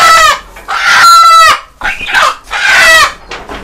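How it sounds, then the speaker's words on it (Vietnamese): Chickens cluck and crow loudly up close at a farm where they are being caught for sale, with several harsh, harmonic calls in quick succession. "gà này nó ốm quá, nó bay hoài, nó không có được ăn"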